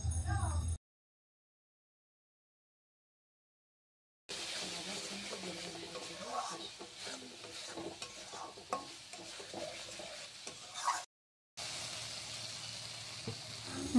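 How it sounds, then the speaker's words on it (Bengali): Salt, coriander powder and fish masala fry in a pan for a prawn malai curry, with a steady sizzle and scraping stirs close by, broken by a couple of silent gaps. "ভালো করে নেড়ে লাল করে ভেজে নেব।"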